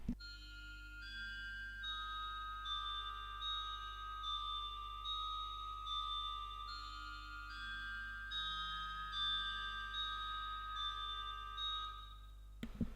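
Synth pad with a bell-like, chiming tone from the AT Pad Skyline preset in Analog Lab 5, played as soft sustained notes in a slow melodic line over a low drone, quiet and alone.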